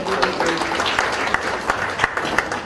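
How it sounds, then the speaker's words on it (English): An audience at the KenyaIGF 2018 forum gives a panel a short, lively round of applause, crisp claps crowding together over a few seconds with voices faintly underneath. "I think they deserve a better round of applause."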